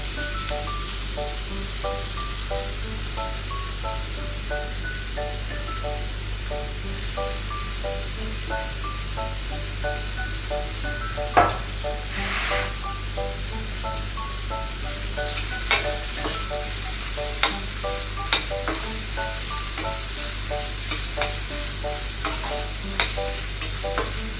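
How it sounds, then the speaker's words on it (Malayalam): Chopped ginger sizzles steadily in hot oil for a ginger curry, a constant close crackle over a low hum, with occasional sharper spatters and spoon taps later on. "എണ്ണ ഒഴിച്ചിട്ട് അറിഞ്ഞു വെച്ച ഇഞ്ചി ഇട്ട് കൊടുക്കാം നമുക്ക് ഇഞ്ചി ഫ്രൈ ചെയ്തെടുക്കാം"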